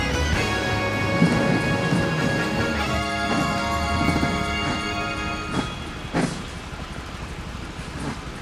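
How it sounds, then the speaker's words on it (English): Rain and thunder in Mario Kart 8 Deluxe: a steady hiss of rainfall with low rumbling thunder, mixed under sustained tonal music that fades partway through. "Cursed rain coming through the window."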